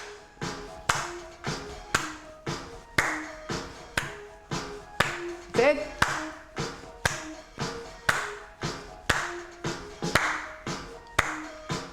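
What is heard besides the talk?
hand clapping during chair exercise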